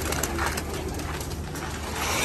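Homing pigeons coo softly in a loft, low murmuring calls beneath a steady background hum.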